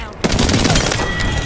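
Rapid automatic gunfire bursts in the video game Apex Legends, loud and continuous after a brief quiet start, with a voice faintly under the shots.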